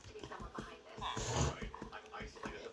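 A dog in a hardcore survival video game growls and pants in short bursts, mixed in with someone talking over the game sounds.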